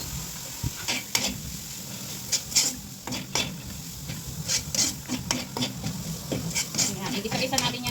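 Vegetables sautéed in a pan while being seasoned for curry fried rice, with a steady sizzle and repeated scraping, stirring strokes of a utensil against the pan, close and fairly loud, some faint voice in the background.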